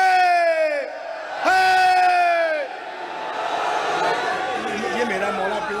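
Crowd at a religious gathering for 14 Rabi ul Awal raising a loud slogan-style chant, two strong group shouts in call-and-response fashion followed by a rougher mass of voices, with a voice leading into the shouts.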